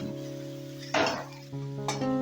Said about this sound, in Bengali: এবার এই মশলাটাও এক মিনিটের মতন আমি ভাজা ভাজা করে নেব কষিয়ে নেব